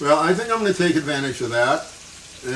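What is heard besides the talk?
No distinct noise like a dog, phone or traffic.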